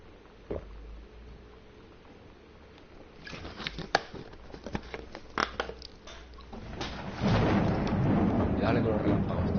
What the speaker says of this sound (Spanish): Y dale con los relámpagos, tío.